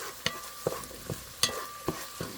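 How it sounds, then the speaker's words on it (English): A spoon stirs garlic paste into a pot, several distinct knocks and scrapes a few tenths of a second apart over a faint background sizzle. "I'm just going to stir that in there."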